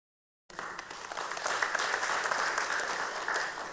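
Applause from a church group after a Bible discussion session starts abruptly and holds as a dense, steady wash of many hands clapping, fairly close and even throughout.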